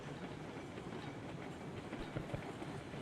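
A train in Railroads Online rolls along its rails with a continuous rumbling clatter of wheels, steady and fairly quiet throughout, with no talk over it.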